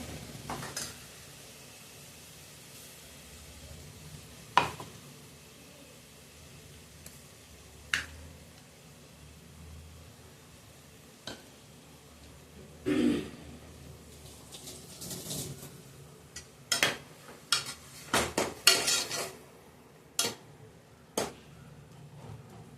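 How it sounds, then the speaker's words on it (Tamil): Garlic, cinnamon and cloves gently sizzle in a pan while a utensil scrapes and taps irregularly, with quiet clinks scattered throughout. "பச்சை வாசனை போகிற வரைக்கும் கொஞ்சம் லைட்டாக வதக்குவோம்"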